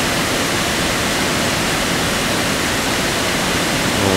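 Powerful, constant roar of rushing water from Enders Falls in Granby, Connecticut, swollen after rain, loud and close, with no pauses or voices.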